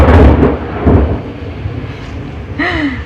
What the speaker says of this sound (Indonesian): Maaf ya, lagi hujan.